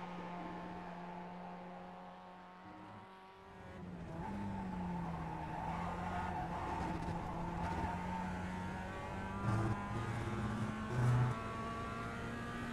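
Simulated Mazda MX-5 engine droning steadily around the Okayama circuit in a racing game, its tone rising and falling through gear changes, with brief tire squeal near the end and no talk.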